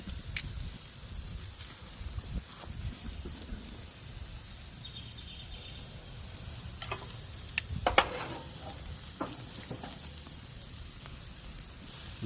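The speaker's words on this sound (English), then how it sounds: "Look at that sizzle." A T-bone steak sizzles on a grill, a steady close crackle and hiss running throughout with a few sharper pops and spits, no voices over it.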